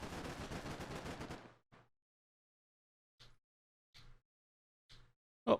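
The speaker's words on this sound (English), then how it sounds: "We're starting to dismount while suppressing fire from the Stryker" Stryker vehicle machine gun laying down suppressing fire in a wargame, a loud sustained burst at first, then a few faint, widely spaced single shots.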